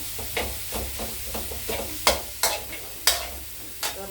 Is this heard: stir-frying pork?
yes